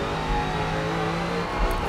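A race car engine in Forza Motorsport 7, an old Lotus Type 49 F1 car, drones steadily at high revs with a slight swell near the end, loud and continuous with no talk.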